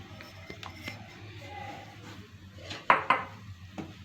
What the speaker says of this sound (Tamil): இதை வந்து மீடியம் ஃப்ளேமில் வச்சு நல்லா வறுத்துக்கிறேன்.